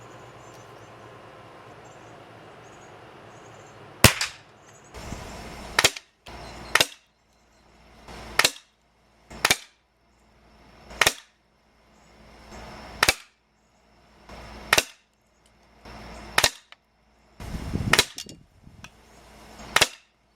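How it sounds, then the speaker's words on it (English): Crosman 362 air rifle firing about a dozen sharp, separate shots at a steady pace of roughly one every second or so, each a crisp crack with a short tail, close and loud over a quiet background. "I figured part of the reason why you won't watch this video is to watch air rifles shoot."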